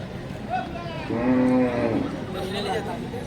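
A bull at the Chalisgaon cattle market gives one clear, drawn-out moo lasting about half a second, heard over a steady crowd murmur, with people talking nearby.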